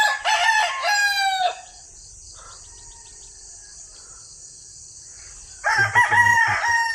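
A rooster crows loudly and close, its long call filling the opening second and a half. Another crow bursts in near the end over a steady high insect drone.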